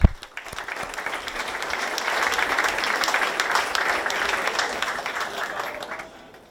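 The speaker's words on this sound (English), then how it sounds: "we could give everybody a big round of applause" A town hall crowd in Logan, West Virginia breaks into a big round of applause, a loud sustained clatter of many hands that swells, holds for several seconds, then fades out.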